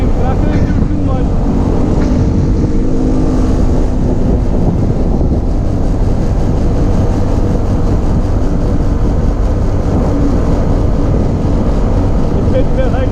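A souped-up ride with an upgraded carburetor roars at top speed through the night, a loud constant engine drone buffeted by heavy wind rush against the microphone, with no clear talking.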